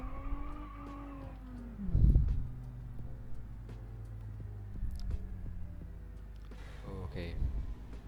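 A car in a driving video game starts up and drives off, its engine whining as it revs and shifts, with brief thumps and tire noise, while a person talks over it.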